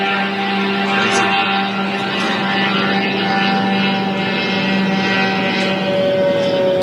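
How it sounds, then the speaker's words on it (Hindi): An Iranian 136 drone flies over Dubai, giving a continuous droning propeller hum with steady engine tones that holds at a moderate, fairly even level against the city background. "ईरान का ड्रोन यहाँ से जाता हुआ आपको दिखलाई दे रहा है और इसकी आवाज़ भी आप यहाँ पर सुन सकते हैं"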